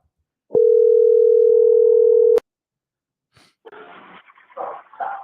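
A telephone dial tone sounds after a call hangs up, a loud steady single tone lasting about two seconds and then cut off, followed by quiet breathing and rustling noises.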